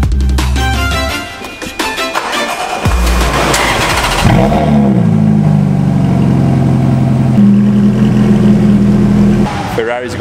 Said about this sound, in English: Ferrari's got quite the rumble there.